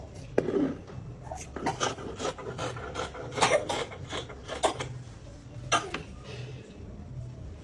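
Scissors cutting fabric along the front neckline of a deep V-neck bubu kaftan, a run of close, scratchy snips and rasping rubs in uneven bursts.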